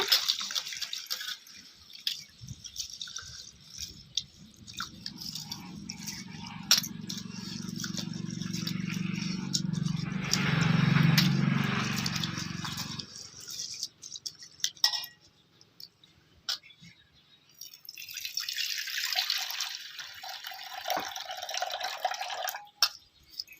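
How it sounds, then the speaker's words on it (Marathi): Water sloshes and swirls with rice grains rattling against a metal pot, a close, steady washing sound that pauses, then resumes with lighter splashes and clinks. "पद्धतीने मी तांदूळ धुवून घेतलेला आहे"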